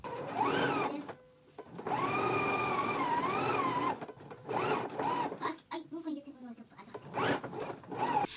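Home sewing machine stitching a seam on a McCall's 7922 garment, running in several quick whirring bursts with short pauses between, fairly faint, with a person talking over and between the runs.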